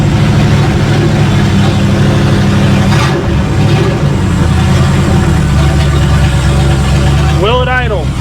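A 1937 Ford pickup engine with no mufflers runs on its own fuel, a loud, close, rough and throbbing drone that holds steady throughout, with people talking over it.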